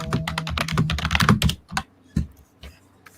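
Someone types quickly on a PC keyboard, with dense clacking keystrokes up close, then slows into a few scattered, separate key presses.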